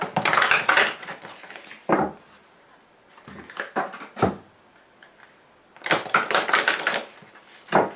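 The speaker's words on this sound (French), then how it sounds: "Alors j'ai encore fait tomber une carte." Oracle cards shuffled, handled and dropped onto a table, giving bursts of papery rustling and flicking with a few sharp slaps, separated by quiet gaps.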